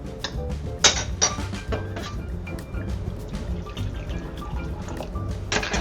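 Hot chicken stock is poured over peas in a pan, giving a steady splashing, trickling liquid sound with a few sharp clinks of utensils against the pan, close and continuous.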